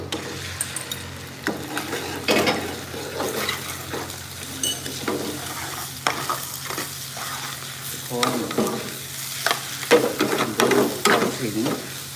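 A pork omelette fries in a pan, hissing and sizzling continuously while a utensil stirs and scrapes in repeated bursts, with occasional clinks of metal against the pan, close and clear with no talking.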